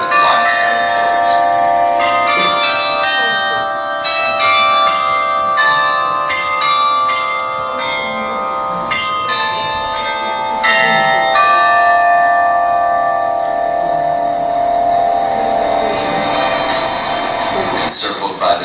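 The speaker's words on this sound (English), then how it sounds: "It is a musical instrument known as a carillon, and there are 95 bells of various frequencies" Carillon of 95 bells ringing among limestone pillars, a steady stream of overlapping tolled notes sustained for the whole stretch, with faint talk underneath.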